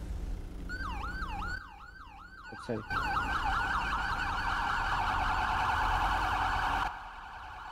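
A police car siren wails in a GTA roleplay video game, its rising and falling electronic tone repeating rapidly and loudly over several seconds, with a brief spoken remark near the start.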